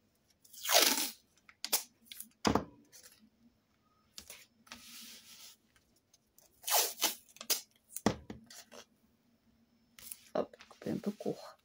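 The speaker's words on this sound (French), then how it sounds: "on va mettre un peu de scotch." Adhesive tape being pulled and torn while assembling a handmade paper album, several sharp ripping bursts close up, separated by pauses, with soft speech in between.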